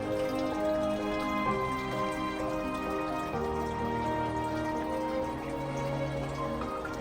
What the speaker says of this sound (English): This water sound might be drowning me out